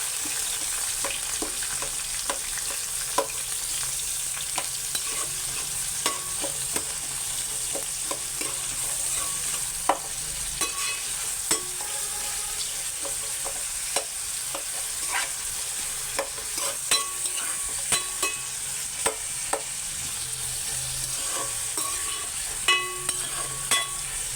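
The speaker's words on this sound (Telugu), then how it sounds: "ఉల్లిపాయలు బ్రౌన్ కలర్ వచ్చేంత వరకు వేయించుకోవాలి ఫ్రెండ్స్" Onions for prawn biryani fry toward brown in a pan, an even, continuous sizzle with scattered clicks and scrapes of stirring throughout, steady and fairly close, with nobody speaking.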